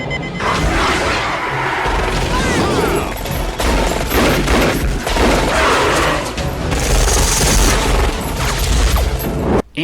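Sustained bursts of automatic gunfire from sensor-operated perimeter machine guns in the jungle adventure film Congo, loud and continuous with heavy booming impacts and crashing debris throughout.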